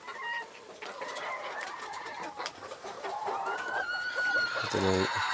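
Chickens cluck and call on a Filipino backyard farm, with several birds chattering close by amid outdoor ambience and a louder burst of clucking toward the end.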